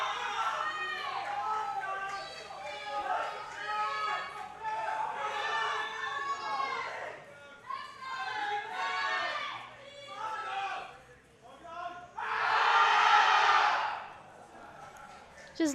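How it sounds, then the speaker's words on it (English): A tournament crowd at a national competition chatters and cheers behind the player, with bursts of excited voices and a loud swell of shouting near the end, mixed under close talk. "You can hear the crowd behind him here."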